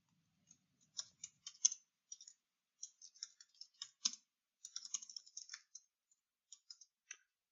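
Keys clack in quick, uneven bursts on a computer keyboard, close and fairly quiet against a silent background, with brief pauses between runs of typing.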